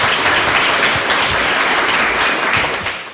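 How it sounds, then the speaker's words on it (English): Sustained audience applause for a panel at a county association regional meeting on workforce planning, a dense wash of many hands clapping that holds steady and then begins to taper off at the end. "Let's give the panel a huge round of applause."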